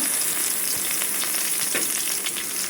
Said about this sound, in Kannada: ಇದೆಲ್ಲ ಲೋ ಫ್ಲೇಮಲ್ಲಿ ಹೀಗೆ ಫ್ರೈ ಮಾಡಬೇಕು.